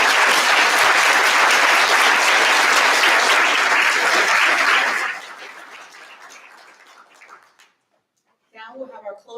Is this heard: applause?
yes